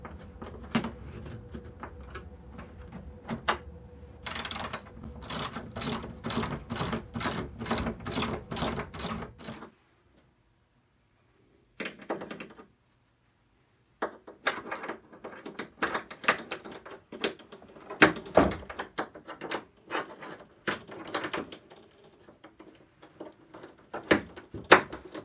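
A bracket being fastened onto a Jet Sled pulk, heard as bursts of rapid mechanical clicking and scraping, close and intermittent, with gaps of silence and irregular knocks of plastic and hardware.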